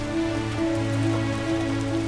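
Steady rain falls without a break, a dense continuous patter close by with a sustained low tonal hum running underneath.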